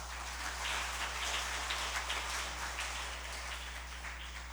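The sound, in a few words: congregation applauding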